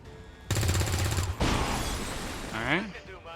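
Gunfire from soldiers in XCOM 2 with the Long War 2 mod: after a half-second lull a loud rattling volley begins, then a sharp cracking impact, debris and mechanical clatter with a rising whine at the end.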